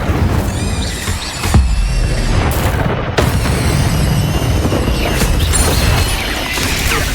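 Incendio fire spell cast in Hogwarts Legacy, a loud whooshing burst of flame amid dense, booming combat effects and crashes during a spell-casting fight.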